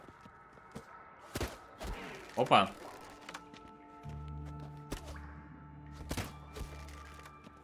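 A crossbow fires in The Witcher video game, with several sharp thunks and cracks standing out over a low hum of in-game ambience while someone speaks briefly.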